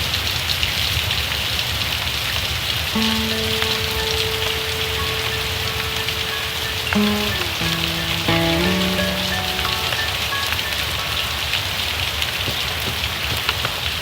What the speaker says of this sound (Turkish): Bazı insanlar yağmuru izlermiş, bazıları ise ıslanırmış.